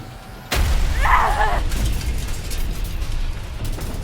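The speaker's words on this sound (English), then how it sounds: "The collision snaps the hull, and both ships begin a cascading set of explosions." Two spaceships colliding in a Warhammer 40,000 audio drama, a sudden heavy boom followed by a sustained rumbling roar of cascading explosions.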